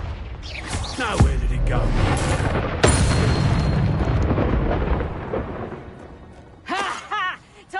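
Confringo explosive spell blasts in Hogwarts Legacy: a loud boom strikes early, then another heavy blast follows, leaving a long rumbling roar that fades out, with a brief voice speaking near the end.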